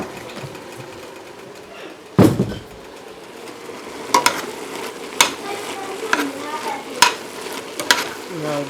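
Egg roll filling stirred and frying in a pan, a steady sizzle with scraping utensil strokes and a few sharp knocks against the pan, close and moderately loud.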